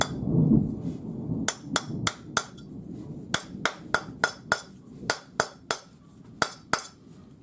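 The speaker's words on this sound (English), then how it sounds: "So use the rawhide hammer." A rawhide hammer strikes a pearl-set metal bangle to work-harden it, landing about fifteen sharp, close taps in uneven clusters, each a bright clicking knock against the metal over a faint low background murmur.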